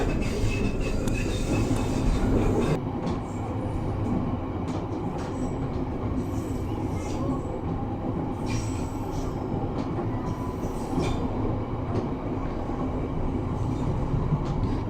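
A train's carriages roll past very close to market buildings, a loud continuous rumble with rhythmic wheel clatter and occasional metallic squeals, steady throughout with a sharp drop in hiss after a few seconds.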